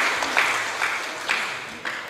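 Steady applause from a school audience of high school students for a student singer, a thick continuous wash of clapping with a few louder swells, sustained throughout with no voices.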